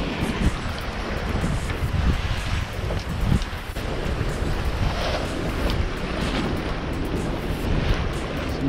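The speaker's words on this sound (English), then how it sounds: "Some big waves in these rocks still." Big waves washing against rock formations in open water near Broughton Island, a continuous rough roar of surf mixed with heavy wind buffeting the microphone from a small sailing dinghy.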